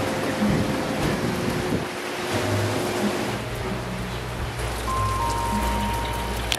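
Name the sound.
rain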